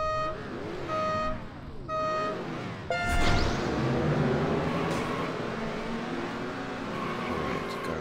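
Kart engines roar and whine through a Beach Buggy Racing match on the Shipwreck Reef track. Game music plays alone for a few seconds, then dense, steady engine noise takes over and stays loud to the end.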